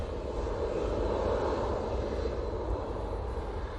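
An airliner landing on runway 05 right at Manchester Airport gives a steady, moderately loud engine roar and rushing hiss, unbroken and without voices.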